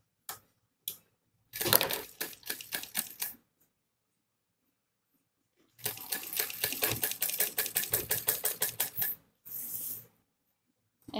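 A sewing machine stitches a sleeve onto a dress made from leftover fabric in two runs of rapid, rhythmic clatter, close up and separated by quiet pauses.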